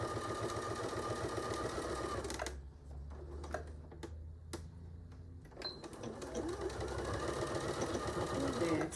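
A sewing machine stitches an artist case with box corners, running in a fast steady whir at the start, pausing for a few seconds, then stitching again to the end.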